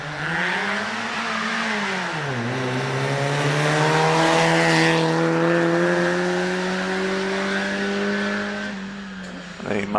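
A Ford Escort rally car accelerates hard up a hillclimb course, its engine note climbing steadily, dipping briefly at a gear change, then rising again loud and close for the whole stretch.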